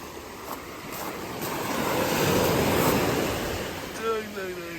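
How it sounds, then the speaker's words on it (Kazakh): Gentle sea waves on a beach in Turkey, the surf swelling to a broad, soft rush midway before settling, with a brief voice-like tone near the end. "Және толқындар сондай қатты емес"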